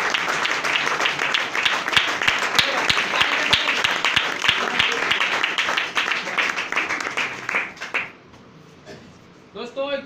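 Loud, sustained applause and clapping from an audience welcoming a speaker on stage at a business event in India, steady for about eight seconds before fading, with voices underneath.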